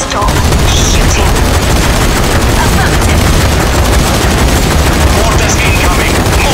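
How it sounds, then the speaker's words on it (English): Dense, continuous gunfire pours onto a huge armored tank in the zombie shooter Zombie Army 4, a loud, unbroken barrage of rapid machine-gun bursts and booming impacts with no pauses. "Find a weak spot, and don't stop shooting."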